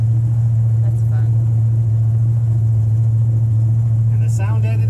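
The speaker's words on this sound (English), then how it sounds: "it's still real loud because the exhaust is like right underneath us" Ford Ranchero exhaust rumbling close by at near idle, a steady loud low drone running throughout with faint brief sounds above it.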